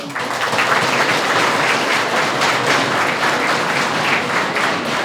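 An audience in a student coaching session bursts into loud, dense applause that carries on steadily for several seconds, with no talk.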